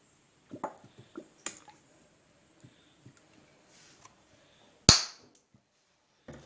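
Pancake batter with about two tablespoons of oil is mixed in a bowl, giving sparse, soft wet squishes and clicks, with one sharp louder splat partway through, and quiet between them.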